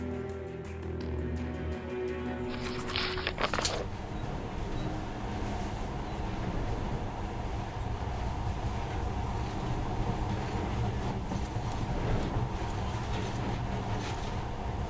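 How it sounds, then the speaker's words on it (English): A monorail train in the video game Metro Last Light Redux gives a continuous low rumbling ride noise, with a brief tonal whine fading out near the start, then a steady rolling drone throughout without speech. "this monorail seems magic, doesn't it?"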